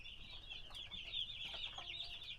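Chickens on a farm cluck and chatter in a steady, faint murmur of overlapping calls, with soft rustling underneath and no talk.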